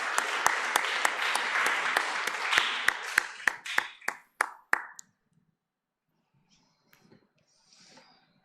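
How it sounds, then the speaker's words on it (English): Audience applause during a Guam Youth Congress session: dense, loud clapping from a crowd that thins over about five seconds into scattered individual claps, then stops, leaving near silence. "Let's give them a round of applause once again"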